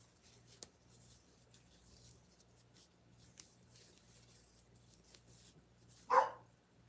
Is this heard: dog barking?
yes